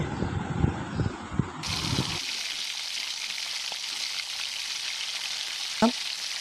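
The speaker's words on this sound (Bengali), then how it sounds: "মাছটাকে আমি ভালো করে কড়া করে আগে ভেজে নিচ্ছি" Pieces of catla fish go into hot oil, which changes from a few thuds and stirs to a sudden, loud, continuous hiss of deep frying, with a brief clatter near the end.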